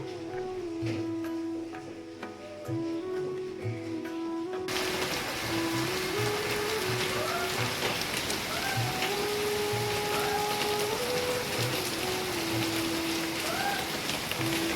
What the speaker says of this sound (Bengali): ভোর 4টে থেকে বৃষ্টি নেমেছে বন্ধুরা